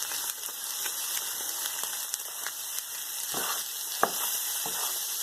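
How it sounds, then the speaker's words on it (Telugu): Cooked rice is stirred into chicken fried rice in a hot pan, a steady sizzle under repeated scraping strokes of a spatula against the pan, with no talking. "మనం ముందుగానే ఉడికించుకున్న రైస్ని కూడా వేసి బాగా మిక్స్ చేసుకుందాం."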